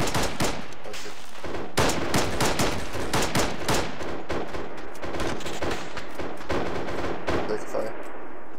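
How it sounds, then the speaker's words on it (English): Rapid game gunfire from an ARMA 3 military firefight, with dense bursts of automatic weapons and single shots cracking throughout, loud and close, while voices talk over the shooting. "We're taking fire right now."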